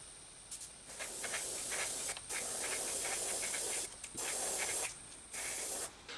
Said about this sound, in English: Time to hit it with some hairspray, and I'll put down some of these streaking effects